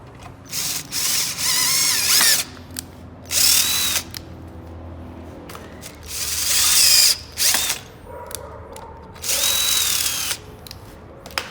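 Power drill boring holes in a DIY bicycle chain tensioner bracket for a mid-drive bike, loud whining bursts of a few seconds each, separated by short pauses and clicks.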